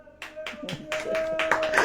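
A church congregation claps along at a Hindi sermon, several bursts of fairly close group handclaps in rhythm, with a sustained tone ringing underneath.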